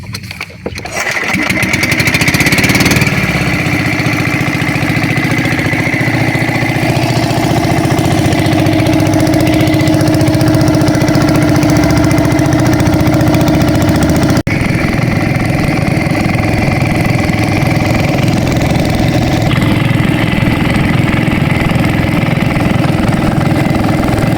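A passenger boat's engine idles steadily and loudly throughout, a continuous low rumble with a droning mechanical hum and no speech.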